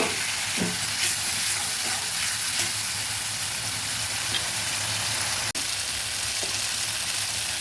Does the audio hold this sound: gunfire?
no